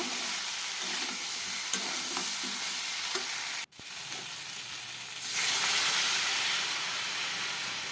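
Water poured into a hot, sizzling pan of sukhto: steady frying hiss, a brief sharp break, then a louder, fuller steaming hiss that carries on to the end, with no talking.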